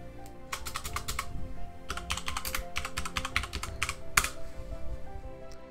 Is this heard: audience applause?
no